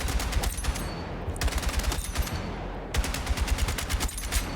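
Rapid automatic fire from a weapon in a Battlefield game, loud and close, comes in several sustained bursts of evenly spaced shots with brief pauses between them.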